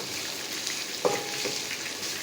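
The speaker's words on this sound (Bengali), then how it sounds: "ডিমগুলো আমি এখানে লাল লাল করে একটু ভাজা নিব।" Eggs dusted with a little turmeric frying in a pan, a steady close sizzle with one sharp spatter or utensil tap near the middle.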